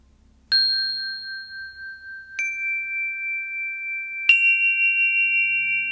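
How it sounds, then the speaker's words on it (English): Meditation chime struck three times at spaced intervals, each bright metallic ding ringing out and sustaining with a slowly pulsing decay, clear and alone in quiet. "In this meditation, we'll begin and end with the chime."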